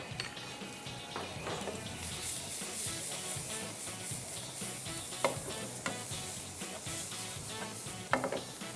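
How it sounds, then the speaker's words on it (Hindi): Garlic and onion sauté in a pan for a spinach quiche, giving a continuous close sizzle with occasional clacks and scrapes from stirring. "अब 1 डाल रहा हूँ मैं यहाँ पर प्याज। इसको अच्छे तरीके से सॉटे करें।"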